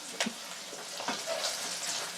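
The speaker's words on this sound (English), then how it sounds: "A little bit more browning and softening of the onion here." Chopped onion fries and softens in a pan, a steady soft sizzle with a few faint clinks of stirring, close by and fairly quiet.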